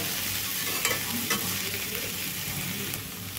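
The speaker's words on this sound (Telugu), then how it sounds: "ఇంకా ఒక 2 నిమిషాల పాటు ఇట్లా కలుపుతా అయితే మగ్గించుకుందామండి" Cluster beans frying in a pan with spices while being stirred, a steady dense sizzle with a few sharp spatula scrapes, close and loud with no talking.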